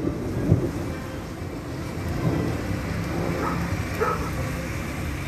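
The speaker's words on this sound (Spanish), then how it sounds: "El sonido, el tronar de los relámpagos fuerte" Low rumbles of thunder roll in and out over a steady hiss of light rain, with a couple of heavier booms, in Pénjamo, Mexico.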